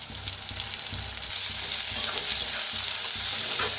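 Onion, curry leaves and spring onion fry in a pan for a spicy lentil and onion dish, giving a loud, crackling, steady sizzle with stirring scrapes close by and no speech.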